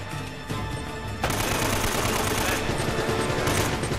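Heavy, continuous enemy gunfire in the game Uncharted: Drake's Fortune, a dense automatic barrage that swells louder after the first second and stays loud throughout.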